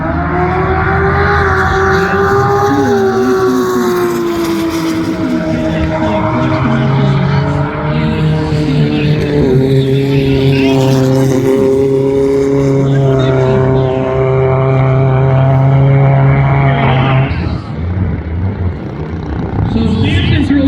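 Drag racing cars, a 2007 BMW among them, launch down the strip in a loud, sustained roar of engines with rising tonal whine and shifting pitch, while an announcer talks over the noise throughout.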